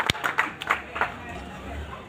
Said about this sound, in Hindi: ताली बजाकर सभी स्वागत अभिनंदन करें।